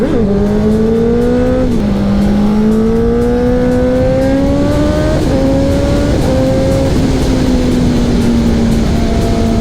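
A loud, close sport motorcycle engine accelerates hard on a road trip to Roccascalegna, Italy, its whine climbing through gear after gear with brief dips at each shift.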